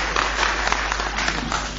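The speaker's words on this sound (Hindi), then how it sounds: "जोरदार ताली बजा दीजिए" Steady applause from an audience at a Hindi poetry gathering (kavi sammelan), a dense continuous wash of clapping filling the whole moment with no talk.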